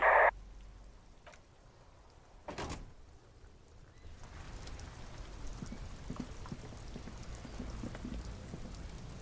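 A couple of sharp knocks and a thud, then steady rain patters and hisses continuously, filling the background, in the video game Disco Elysium.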